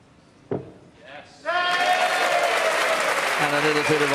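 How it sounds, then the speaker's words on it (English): Crowd applause in a snooker arena during a Welsh Open match at the Motorpoint Arena, Cardiff, swelling after a brief thud and murmur, then sustained, loud clapping with a commentator speaking over it. "a little bit of ironic applause there from the crowd"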